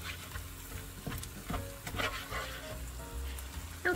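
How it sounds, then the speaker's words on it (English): A flour-and-fat roux for mushroom gravy sizzles steadily in a pan while a utensil stirs it, with soft scraping and stirring strokes over the continuous frying hiss, close and moderately loud, with no talking. "now I'm going to cook this together. And this is what's called a roux."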